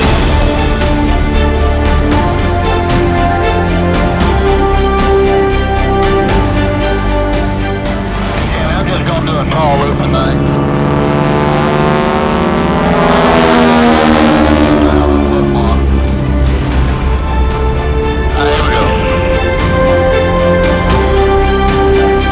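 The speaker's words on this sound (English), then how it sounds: "the loud roar of a T-6 radial engine" Loud, steady roar of a T-6 Texan warbird's radial engine heard from on board in flight, a dense throbbing drone with shifting pitch sweeps as the aircraft maneuvers, continuous and close.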